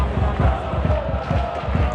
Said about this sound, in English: the fans are still cheering